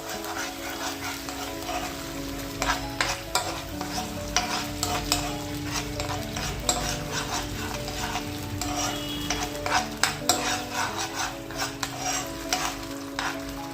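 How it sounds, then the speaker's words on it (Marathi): A spoon stirs homemade pasta in a pan as green chili and soy sauces are mixed in, giving a repeated close scraping and light sizzle throughout, with steady music running underneath. "हे सगळे सॉस पूर्णपणे मिक्स करून घ्यायचे आहेत"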